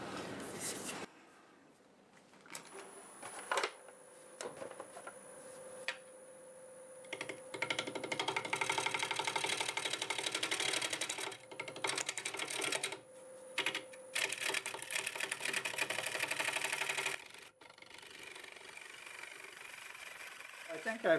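A gouge cuts an apple wood bowl on a wood lathe, giving rough, scraping chatter in bursts with a steady motor tone underneath, pausing between passes; someone talks in places.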